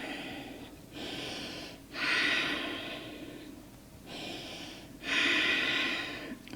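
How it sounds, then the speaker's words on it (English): Deep, slow breaths during a yoga pose, alternating long inhales and exhales in a steady rhythm, four drawn-out breaths close to the microphone, the stronger ones airy and hissing, with no talking. "Taking deep breaths"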